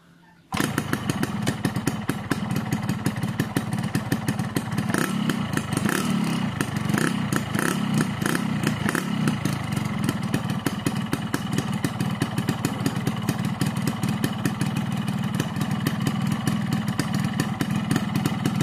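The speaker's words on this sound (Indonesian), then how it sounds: "kita coba nyalain mesinnya dulu teman-teman" A small two-stroke Husqvarna motorcycle engine starts and then runs steadily with a rapid, buzzing, rattling idle that stays loud and close throughout.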